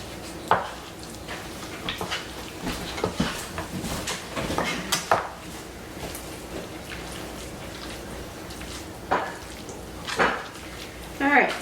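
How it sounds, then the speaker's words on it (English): A spoon stirs the vegetables for a turkey pot pie in a pot. Scattered scraping and clinking knocks come in irregular bursts, fairly close, over a quiet kitchen background. "Stir that around."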